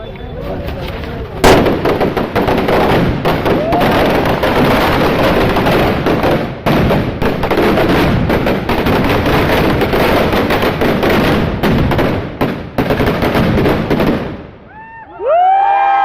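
Firecrackers burst in dense, rapid volleys of loud cracks and pops at a street celebration for the release of the film MARK in Tiptur, nearly continuous for fourteen seconds, with crowd voices mixed in.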